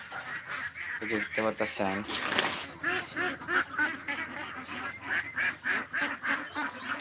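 Domestic ducks kept by a farmer quack and honk repeatedly at close range while someone talks over them throughout.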